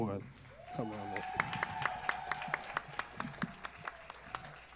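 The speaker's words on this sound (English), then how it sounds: "Clap it up for none other than Dr. Henry L. Dorn." Audience applause at a high school spring band concert, a steady wash of clapping from a crowd at moderate distance, following a voice speaking over a PA system.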